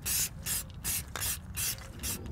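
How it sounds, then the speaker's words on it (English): High temperature spray paint is sprayed onto a bare-metal car exhaust in six short, evenly spaced hissing bursts, close and fairly loud, with faint mechanical clicks between them. "So we're gonna hit it with some high temperature spray paint."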